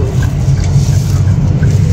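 Steady low road rumble and engine hum from inside a moving car amid heavy traffic with many cars and lorries, continuous and loud.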